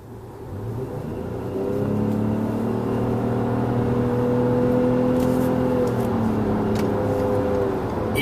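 A 2014 Toyota Highlander Hybrid with a 3.5-liter V6 and three electric motors gives off a smooth rising electric whir as it accelerates, layered tones climbing and holding over steady road noise inside the cabin.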